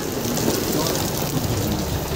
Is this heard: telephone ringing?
no